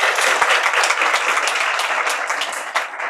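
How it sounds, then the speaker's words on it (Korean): A seminar audience at an ecumenical gathering gives a loud, sustained round of applause to welcome a theology professor, many hands clapping in a dense, continuous wash. "큰 박수로 환영해 주시기 바랍니다."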